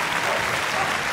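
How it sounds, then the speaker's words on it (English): An indoor arena crowd claps for the West Midlands Police dog display at Crufts 2019, producing dense, loud, sustained applause that stays even throughout. "a big round of applause to the guys there"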